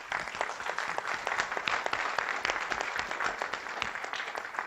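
Audience applauding the speakers at an evening event, a steady dense crowd clapping that stays loud and even throughout, with no talk over it.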